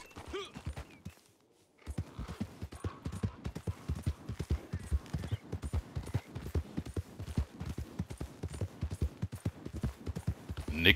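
Horse hooves clip-clop steadily in Red Dead Redemption 2, a close, rhythmic trot of evenly spaced thuds that starts after a brief pause and continues throughout.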